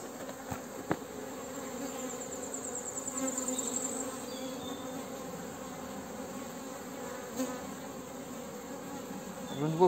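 Honeybees buzz at an open hive holding a Buckfast queen, a soft, continuous drone of many wings close by with a few brief clicks and handling noises, no voices.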